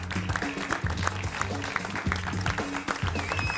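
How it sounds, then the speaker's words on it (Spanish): Studio audience on a cooking competition show applauding a departing contestant, a steady crackle of clapping over a rhythmic bed of background music. "Dale, un aplauso"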